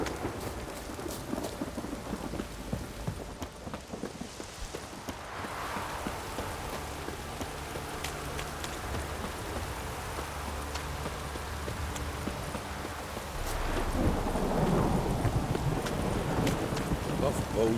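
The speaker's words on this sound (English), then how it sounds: "Buffaloes have brought us rain." Steady rain pattering with rumbles of thunder in the game The Witcher 3: Wild Hunt, a louder roll building near the end, with no talking.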